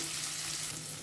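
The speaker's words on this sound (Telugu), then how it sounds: "సాంబార్కి ఉల్లిపాయ ముక్కలు మరీ ఓవర్గా ఫ్రై అవ్వాల్సిన అవసరం లేదు" Onion and green chilli pieces frying in a pan for sambar give a steady, close hiss of sizzling oil that continues throughout, with no talking.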